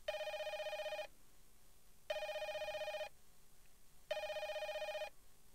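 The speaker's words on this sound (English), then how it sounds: "the phone will ring 3 times" A telephone ring sound effect inserted into a PowerPoint slide plays three times, each a one-second electronic trill followed by a one-second gap, clear and steady with nothing else heard.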